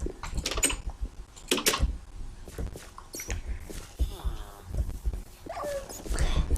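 A dog whimpering and yelping in short, high whines mixed with rustling and thumps, close by, while people talk over it.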